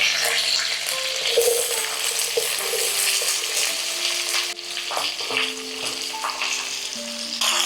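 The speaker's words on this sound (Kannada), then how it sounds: "ಸೊ ಕೆಂಪಾಗೋವರೆಗೂ ನಾವು ಹುರ್ಕೋಬೇಕು ಇದನ್ನು, ಈರುಳ್ಳಿಯನ್ನು" Onions sizzling in hot oil with mustard seeds and curry leaves, a loud, dense, continuous frying hiss with occasional stirring scrapes, no voices.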